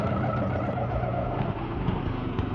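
An auto rickshaw engine putters steadily nearby, a continuous low rumbling idle with slight fluctuations.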